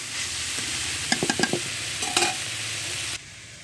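Pumpkin pieces, sprinkled with a little sugar, being stirred and fried in a pan, with a low steady sizzle and a few sharp clinks of the spatula against the pan, ending abruptly.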